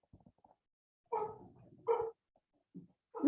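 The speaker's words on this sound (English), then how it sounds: "my dog is barking in the background" A dog barks a few times in the background indoors, short muffled woofs spaced apart amid near silence.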